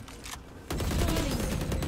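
Gunfire from a multiplayer shooter game: a rapid burst of shots cuts in after a short quiet lead-in and continues as sustained fire to the end.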